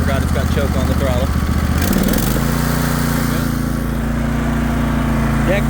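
A 42-inch Craftsman zero-turn riding lawn mower engine, slightly choked, runs loud and close, then revs back up to a steady higher drone while someone talks over it.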